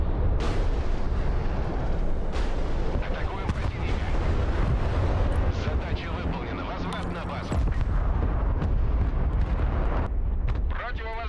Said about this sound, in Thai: เรียกมิก 35 เข้ารับภารกิจ ยิงมิสไซล์แอนตี้เรดาร์จำนวน 4 ลูก จำนวน 2 ลำ